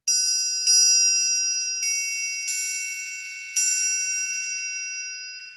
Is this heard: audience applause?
no